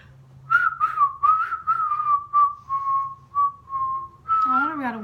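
Someone whistles a wavering run of short notes of nearly one pitch, close and fairly loud, stopping and starting unsteadily before ending in a brief bend that sounds like a voice.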